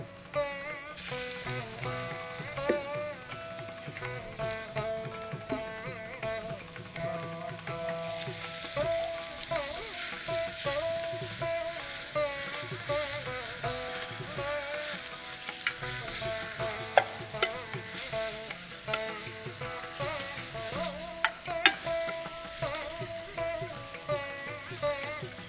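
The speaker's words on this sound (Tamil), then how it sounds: "தேங்காய் எண்ணெய் நல்லா சூடாயிடுச்சு. இதில் நம்ம கொஞ்சம் கொஞ்சமாக இந்த மூலிகை அரைச்சதை நம்ம இதில் போட்டுக்கிறோம்." Ground herb paste frying in hot coconut oil, a steady close sizzle with stirring and scraping running throughout under soft background music, with no talk.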